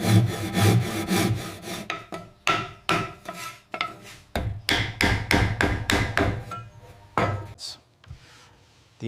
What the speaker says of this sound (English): The entire piece of wood is sanded from 80 grit to 220 grit